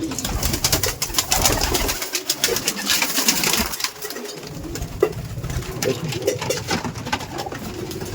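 Kaldom pigeons cooing, low rolling coos repeating through the clip over a busy background of fluttering and shuffling, fairly close.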